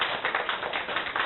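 A church congregation at a Sunday worship service claps together in a brief, dense burst of many hands, loud and close.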